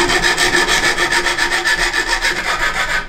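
Sandpaper rubs along silver wire in a jewelry workshop, a loud, close, steady back-and-forth rasp with regular strokes, heard alone.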